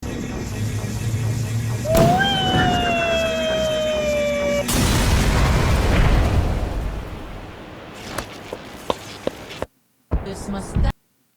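An explosion in a Skibidi Toilet animation: a rising whistling tone builds, then a loud, broad blast roars and rumbles for a second or two, followed by scattered sharp clicks and a short silence.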